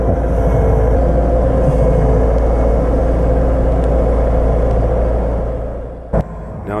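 A front end loader clears heavy snow after a blizzard, its engine a loud, close, continuous low rumble that holds steady and then drops briefly near the end with a short knock.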